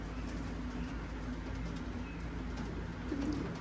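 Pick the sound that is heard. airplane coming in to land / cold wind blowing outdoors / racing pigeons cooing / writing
racing pigeons cooing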